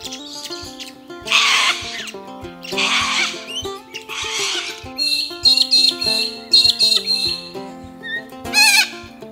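Corellas on a meadow give harsh, raspy screeches in several bursts, followed by thinner chirps and squeaky calls, close and fairly loud with no talking.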